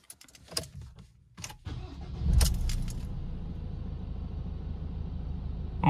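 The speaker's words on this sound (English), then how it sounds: "So I'm going to start the car up and see how it runs." A Ford Ranger with a DPF and EGR delete starts up: keys jangle, the starter cranks briefly, then the engine catches and settles into a steady close idle, with no speech.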